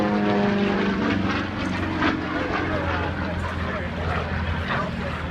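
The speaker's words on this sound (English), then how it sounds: "You gotta love the sound of that radial engine" A propeller aircraft's radial engine drones steadily and loudly, its pitch and intensity shifting as the plane flies aerobatics overhead: a hammerhead stall turn, rolls and a spin.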